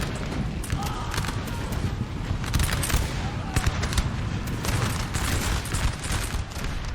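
Musket volleys crackle in a large 4v4 battle in Napoleon Total War, a steady dense rattle of massed gunfire with scattered heavier booms, sustained across the whole stretch with faint voices blended in.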